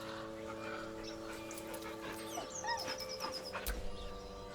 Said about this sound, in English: The dog whimpers nervously, as if to urge you on.